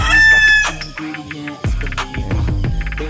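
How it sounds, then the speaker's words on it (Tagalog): Roosters crow loudly and repeatedly close by, with hens clucking in between and a busy chorus of fowl throughout. "Daming manok dito."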